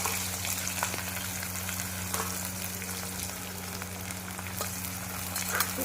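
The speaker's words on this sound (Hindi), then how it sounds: "तो मैं अब छौंक लगा देती हूँ क्योंकि हमारा ऑयल तैयार हो गया।" Onions sizzle and fry steadily in hot oil as a tempering is made in a home kitchen, a close, continuous crackle with no voices over it.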